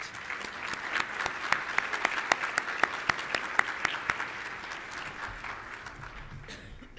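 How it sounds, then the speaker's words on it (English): An audience at a closing session claps steadily for several seconds, the applause gradually thinning out and fading toward the end. "let's just give them a round of applause for that"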